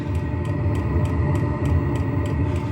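A Webasto or Eberspacher diesel cabin heater on an ambulance gives a steady low rumbling combustion roar from its exhaust, with a faint, regular ticking pulse repeating about every third of a second, continuous and close.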